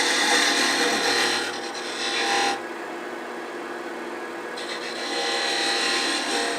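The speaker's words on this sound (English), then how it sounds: "now we're going to bring this cut in like this and kind of a slight cove into that face." A lathe tool cuts a slight cove into a spinning wooden hair stick, giving a continuous close scraping hiss that drops away briefly in the middle before the cut resumes.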